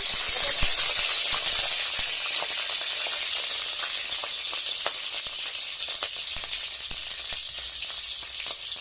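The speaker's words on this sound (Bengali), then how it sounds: "দুটো তেজপাতা ফোড়ন দিলাম। আর চুনা মাছের চচ্চড়ি করতে জিরে ফোড়ন দিলাম।" Bay leaves and cumin seeds dropped into hot mustard oil with green chillies in a kadai, crackling in a steady bright sizzle with scattered pops, close and continuous for the whole stretch, no voices.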